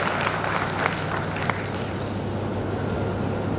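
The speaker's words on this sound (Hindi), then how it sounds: "आप सब ताली बजाकर बताइए कि आपकी इच्छा है" An audience claps steadily at an indoor bar association gathering, a dense, even patter of many hands filling the room with no speech over it.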